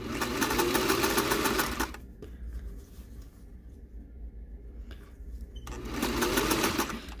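Domestic sewing machine basting a centered zipper into a dress, running in two close bursts of rapid needle clatter with a quieter pause of handling in between.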